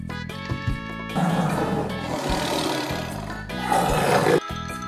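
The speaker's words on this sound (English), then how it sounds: "Tiger." A tiger roars, with several long, loud, harmonic bursts filling most of the stretch and brief pauses between them.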